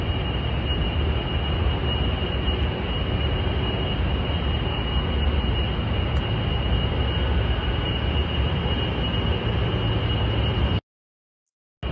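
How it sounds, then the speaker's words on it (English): Loud, steady roar of a nearby data center, like a jet turbine: dense broadband rush with a constant high whine, running without pause for about eleven seconds before cutting off abruptly near the end. "thing on what it sounds like if you live near one of these data centers."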